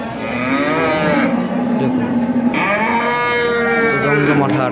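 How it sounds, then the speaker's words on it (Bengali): Cattle moo loudly at a weekly cattle market, two long drawn-out calls close by, with faint market background behind them. "দেখুন এখানে সব ধরনের গরু পাবেন"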